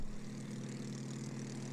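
Steady propeller-plane engine drone from the video game It Takes Two, a continuous low hum with buzzing harmonics running evenly throughout, fairly loud with no talk over it.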